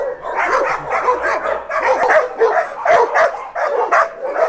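Dogs at a kennel barking repeatedly in quick, overlapping bursts, loud and close, with a rapid irregular rhythm of sharp yaps and woofs throughout.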